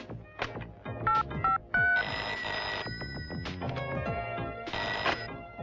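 A telephone rings in repeated bright bursts, loud and close, mixed with other clattering tones and thumps.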